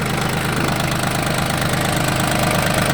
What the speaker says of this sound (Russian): двигатель трехцилиндровый, простой и надежный